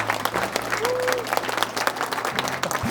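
Loud, dense audience applause at the founding ceremony of The Wave, an African medical volunteer NGO, continuing for about three seconds. Faint tonal sounds, like brief voices or feedback, rise above the clapping.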